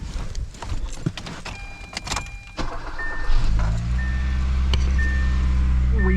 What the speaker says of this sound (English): I want to see if I can start my vehicle.